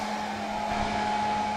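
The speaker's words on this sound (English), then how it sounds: "Got the hairdryer mounted." A mounted hair dryer blows steadily to dry out walking shoes indoors, a constant, even whir with a faint hum and no breaks.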